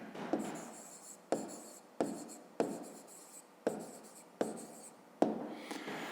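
A pen writing a maths answer on paper, six quick scratchy strokes repeating about once a second, close and quiet, each starting with a small tap as the pen touches down.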